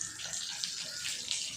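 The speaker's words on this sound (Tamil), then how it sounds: "பாருங்கள், ஃபால்ஸ் தண்ணி ஊற்றுதுங்களா?" Water pours steadily from a small homemade garden waterfall, a soft continuous splashing and trickling that stays close and fairly quiet, with no voices.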